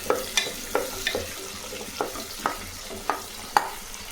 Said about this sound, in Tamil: கொஞ்சம் சீரகம், பச்சை மிளகா ஒரு 4. இது நல்லா வதக்கலாம்.